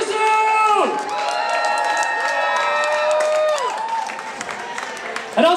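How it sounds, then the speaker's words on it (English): Concert audience giving a round of applause for contributing artists, loud cheering and whoops over clapping from a sizeable crowd, sustained for several seconds before tapering off. "let's give a big round of applause to all the contributing artists tonight"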